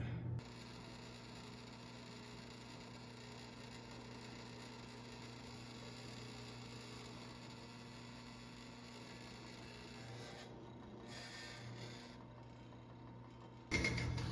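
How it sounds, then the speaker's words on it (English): A small drill bores a deep hole into the belly of a handmade brown trout spinnerbait lure, giving a steady, even mechanical whine with a low hum that runs close and unbroken for about thirteen seconds before a brief louder bump at the end. "I drilled out a nice deep hole into its belly"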